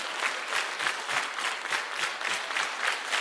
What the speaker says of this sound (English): If you can hear me, clap 12 times.